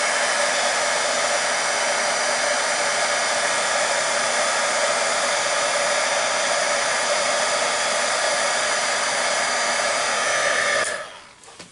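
A heat embossing tool blows hot air over embossing powder on a papercraft gift box. It makes a loud, steady fan roar held close for about eleven seconds, then cuts off abruptly.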